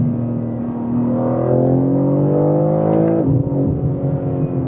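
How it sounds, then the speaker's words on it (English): A BMW M3 CS Touring engine revs loud and close, its pitch climbing steadily before dropping sharply at a gear change and settling into a steady hum, with no distinct exhaust pops standing out. "those little pops, they're really satisfying. And especially when shifting gears"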